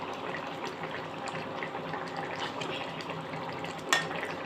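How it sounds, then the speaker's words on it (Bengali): Fried fish in a mixed-vegetable curry is stirred in the pan, a soft continuous bubbling and scraping sizzle with a brief clink near the end. "এখন একটু নেড়ে চেড়ে দিতে হবে।"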